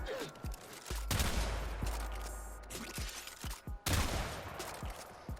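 Tigris Prime shotgun blasting in the Warframe video game: a loud double boom opens, then more heavy shots come in paired bursts over the rest of the stretch, with mechanical clacks in between and no talking.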